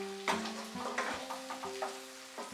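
Three medium tomatoes, cut into long strips, fry with cashews in a pan for paneer butter masala. A soft sizzle runs underneath while a spoon scrapes and knocks repeatedly, stirring close by.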